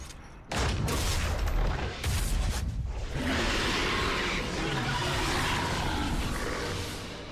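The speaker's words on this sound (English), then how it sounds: "That was a lyrium explosion." A lyrium explosion in the Dragon Age: Awakening video game, a sharp burst followed by booming, crackling blasts and a long roaring rumble that slowly fades.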